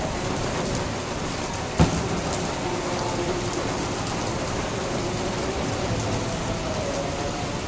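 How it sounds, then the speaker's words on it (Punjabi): Heavy evening rain pours down steadily, a dense, even roar of drops on surfaces that fills the whole stretch, with one brief knock partway through and no voices. "ਹੁਣ ਮੀਂਹ ਜ਼ੋਰਾਂ ਦਾ ਪੂਰਾ"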